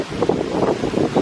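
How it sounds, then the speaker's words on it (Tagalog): Strong, cold wind gusting outdoors at an overlook near a church in Germany, a steady roaring rush that swells and buffets the microphone with no voices over it. "Saglit lang kami doon kasi sobrang lakas ng hangin"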